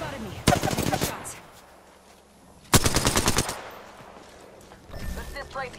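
Two loud bursts of rapid automatic gunfire in a video game, each lasting about a second, with quieter distant shots and a voice in between.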